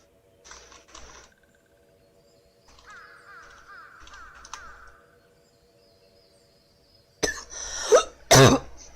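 A few sharp coughs burst out near the end, loud and close, after a stretch of quiet background with faint game-like tones and a soft voice, with no clear speech over the coughs.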